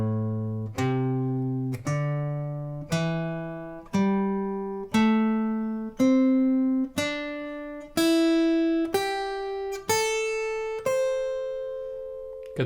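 Guitar plays a minor pentatonic scale upward, a single plucked note roughly every second over about a dozen clean, evenly spaced notes that ring and decay one by one, close and clear with no talking.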